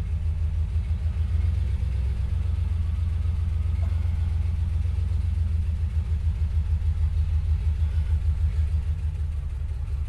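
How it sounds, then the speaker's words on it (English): A 1934 Ford flathead in a Phaeton idles steadily with a low, throbbing rumble through a slightly noisy muffler, the engine pulsing evenly and close throughout with no talking. "I think the muffler is a little noisy."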